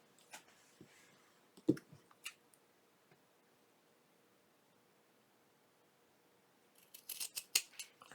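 Scissors snip through fabric for a sewn pouch, a few isolated close cuts early on, then a quiet gap and a quick run of crisp snips at the end, with no talking.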